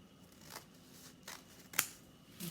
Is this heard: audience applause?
no